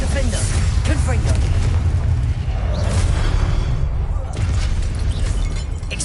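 A Confringo blasting spell explodes in Hogwarts Legacy, a loud, continuous booming burst with whooshing and shattering debris, heavy and close, while a voice calls out over the blast.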